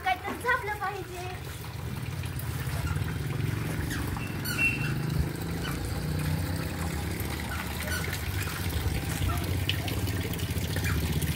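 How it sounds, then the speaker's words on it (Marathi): Water trickles and splashes as it is poured onto a plant, a soft continuous pour with people talking over it throughout. "झाडाला पाणी घालते."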